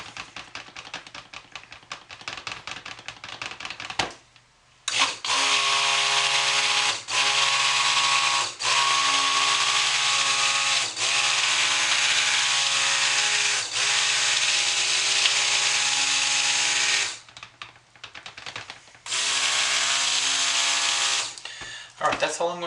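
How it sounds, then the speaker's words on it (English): A stick blender mixes soap batter that has scent oil stirred in, whirring loudly in long sustained bursts with brief pauses between them, while a person talks intermittently. "that's all I'm going to do with the stick blender"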